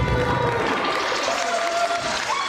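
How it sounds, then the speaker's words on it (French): Sustained applause from a party crowd celebrating Françoise's 60th birthday: dense, continuous clapping that fills the room, loud and steady throughout, with a faint murmur of voices underneath. "On applaudit bien fort, Françoise."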